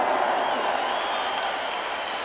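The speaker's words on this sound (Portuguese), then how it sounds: "Se você está aplaudindo a graça da unidade da igreja, aplauda para valer" Church congregation applauding at a Pentecost Mass, a steady dense wash of clapping that holds at an even level throughout, with faint voices mixed in.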